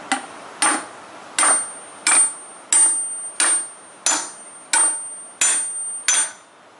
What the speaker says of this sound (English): Then I'll just get a big hammer.